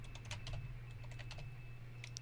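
Steady typing on a computer keyboard at a ham radio station sending radioteletype, with rapid close key clicks over a constant low hum and a faint steady tone.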